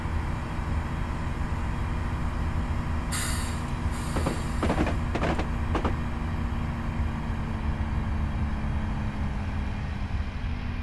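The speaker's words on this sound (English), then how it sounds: "I've taken the throttle off this time, so hopefully the train will behave more the way I would expect it to." Class 158 diesel multiple unit running on the Settle to Carlisle line near Carlisle, a steady low rumble of engine and wheels throughout, with a few brief squeaks and clatters of rail joints midway; no talking.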